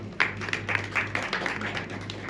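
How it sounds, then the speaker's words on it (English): Audience applause at a gala event honouring Nigerian entertainers, a steady crowd patter of claps at moderate, fairly distant level with a few sharper individual claps and a low hum underneath. "Please a round of applause."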